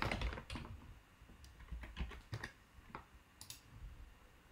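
Someone types a connection name on a computer keyboard, a steady patter of quiet, close key clicks with a few sharper taps over several seconds.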